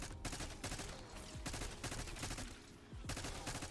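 Rapid automatic gunfire mows down zombies in Black Ops 6 Zombies, a dense, continuous rattling stream with brief gaps between bursts, heard at moderate level.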